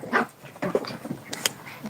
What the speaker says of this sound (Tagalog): May ngayong aso eh.